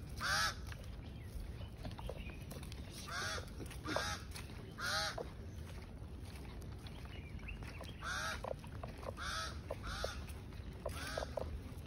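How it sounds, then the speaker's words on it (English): Outdoors on a walk in Nigeria, a series of harsh cawing calls repeats at a steady pace, fairly distant and faint, with no talking. "It's a crow."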